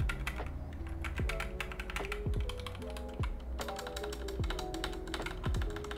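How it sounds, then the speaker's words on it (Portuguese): Continuous typing on a compact 61-key Gamakay MK61 mechanical keyboard with Gateron Red linear switches and pudding keycaps, a dense, fairly quiet stream of clacking keystrokes with occasional heavier thocks, close up and without talk. "não faz tanto barulho quanto um teclado com switches Blue, mas faz aquele barulhinho que eu particularmente gosto"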